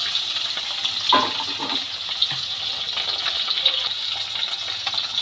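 Small snakehead (lyatha) fish frying one by one in hot oil, a loud steady hissing sizzle up close with occasional sharper spits and crackles, continuous throughout.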